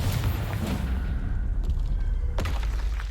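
A Confringo blasting spell goes off in Hogwarts Legacy, a couple of deep booming blasts with thudding low rumble and sharp bursts, one strong impact near the end.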